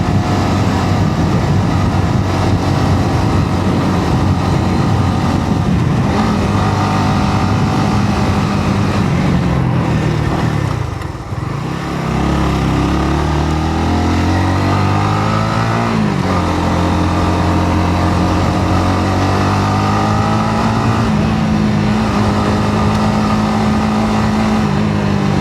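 A motorcycle engine hums continuously on a ride through Angono, Rizal, loud and close, with pitch rising and falling as the rider accelerates and shifts, briefly dipping midway.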